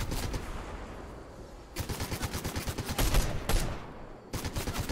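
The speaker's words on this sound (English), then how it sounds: "Come on, stop firing at me and hit me." Rapid automatic gunfire in Fortnite rattles in sustained bursts aimed at the player, with a short pause between volleys, loud and close without talk.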